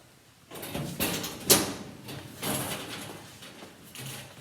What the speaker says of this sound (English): Once you open up the door